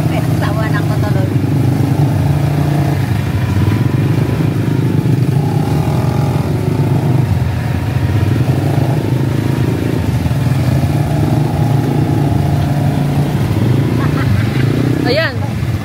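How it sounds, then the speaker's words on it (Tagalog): A motorcycle engine runs steadily nearby, a continuous low rumble carrying through the whole stretch, with people talking over it and a sharp rising chirp near the end. "Alam na may naririnig nila yung ingay ng motor."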